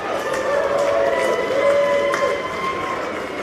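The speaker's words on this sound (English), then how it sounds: "Let's give Dave a big round of applause" An audience claps and cheers for the winner of a raffle prize at a ski and snowboard shop event. The sound is a steady wash of applause with a few shouts of approval over it.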